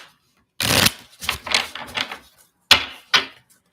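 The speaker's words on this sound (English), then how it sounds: "Let me shuffle this and then we're going to clarify with this deck" A tarot card deck being shuffled by hand, with a loud riffle of cards followed by several shorter bursts of cards being cut and bridged, then two sharp final riffles, close and alone.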